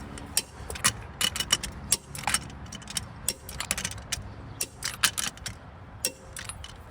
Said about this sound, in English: now let's torque these wheels